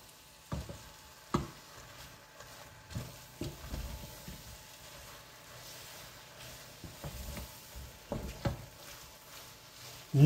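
A spoon stirs cabbage into pork goulash in a pot, a soft, quiet bubbling sizzle broken by irregular thuds and scrapes against the pot.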